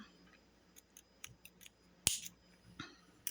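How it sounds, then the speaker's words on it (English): Scissors snip yellow yarn during a crochet project, a few quiet, crisp clicks followed by one sharper, louder snip, then a couple more faint cuts, close by in a quiet room. "I'm going to go ahead and snip this yellow yarn because we don't need it anymore."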